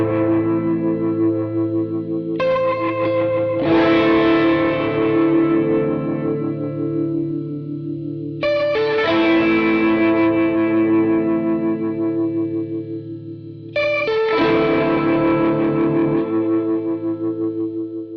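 Electric guitar chords played through a Strymon Lex rotary speaker pedal emulating a Leslie, loud sustained strums with a swirling, warbling modulation, three chords rung out in turn with no talking.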